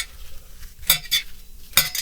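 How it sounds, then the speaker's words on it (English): A knife scrapes across a very hot pan while flipping beans with melted shredded cheese inside, giving a soft sizzle and three sharp scrapes spaced through two seconds, with no talking. "That scraping is irritating, I know."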